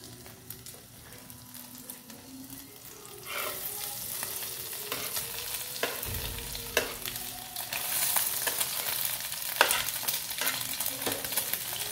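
Tikoy, a sticky rice cake, fries in a pan with a steady oil sizzle that swells louder partway through, broken by occasional scraping turns of a utensil, close and without talk.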